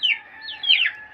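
Chickens on a farm at feeding time give short high squawking clucks, two or three close bursts in about a second with no talk.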